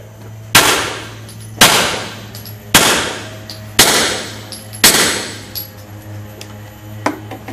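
Gunshots fired into a clearing chamber during a safety test, about six sharp loud reports spaced roughly a second apart, each with a short decaying ring, over a steady low hum.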